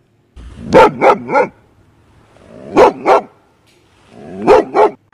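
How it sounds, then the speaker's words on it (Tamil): A dog barks in three short bursts of two or three quick barks each, separated by quiet gaps, close by with no talking. "அந்த நாட்கள் எல்லாம் நாய்கள் குலைக்கிற"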